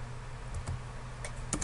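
Computer keyboard typing heard up close: a few soft scattered key clicks over a low steady hum, with a quick cluster of taps near the end.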